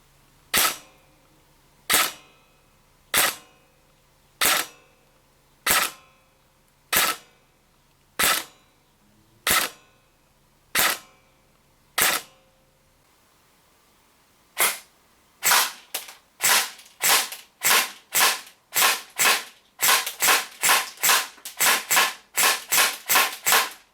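A DYTAC SLR B15 Helix airsoft AEG rifle fires 0.2 gram BBs on an 11.1 LiPo battery through a chronograph, sharp single shots spaced evenly at first, then rapid quicker bursts near the end.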